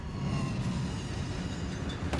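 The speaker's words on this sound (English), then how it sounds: "Send him out when the train comes." A train in the Killzone: Shadow Fall video game gives off a steady, heavy mechanical rumble that stays loud and continuous throughout, with no voices over it.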